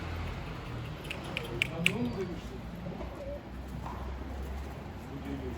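A black galaca tumbler pigeon coos softly near a coop, its low murmuring calls faint against quiet background noise.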